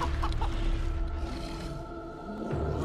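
A chicken in the Divinity: Original Sin 2 video game clucks after a transformation spell, short clucks up close over a steady game background, with no talk.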